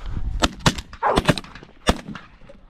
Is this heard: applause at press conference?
no